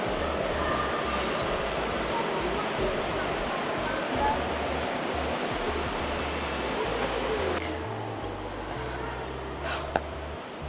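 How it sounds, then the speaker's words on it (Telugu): Steady, dense roar of a waterfall behind Batu Caves, Malaysia fills the scene, loud and continuous, easing slightly near the end, with a brief sharp knock just before it finishes. "బట్టు కేవ్స్ వెనకాల వాటర్ ఫాల్స్ అద్దరిపోయిందబ్బా"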